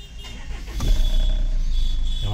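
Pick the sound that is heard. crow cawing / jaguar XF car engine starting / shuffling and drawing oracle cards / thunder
jaguar XF car engine starting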